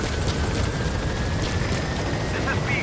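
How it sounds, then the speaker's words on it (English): Helicopter from the game Metal Gear Solid V: The Phantom Pain coming in to a landing zone, a steady low rotor rumble filling the background with a faint high whine, constant and unbroken throughout. "Helicopter's coming in."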